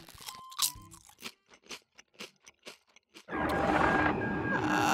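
Crisps being crunched and chewed from one of three bags, a string of sharp, close bites in a steady rhythm, followed by a louder stretch of dense, busy sound toward the end.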